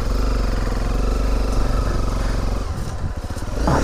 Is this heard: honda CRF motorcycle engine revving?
yes